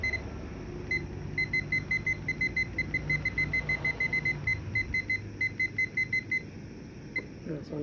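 A kitchen timer beeps in a steady, rapid series of short electronic tones while a Mokapresso brews espresso, the beeping moderately clear over low background hum and stopping near the end.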